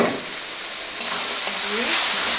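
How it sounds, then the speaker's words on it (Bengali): Mutton stock poured into cooking mutton sets off a loud, close sizzling hiss that surges about a second in and keeps crackling steadily. "আর দেবো একটু মাটন স্টক"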